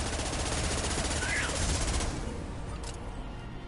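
Automatic gunfire in Mass Effect 2 rattles continuously in a dense, close barrage, with a short synthetic sweep partway through, easing slightly toward the end.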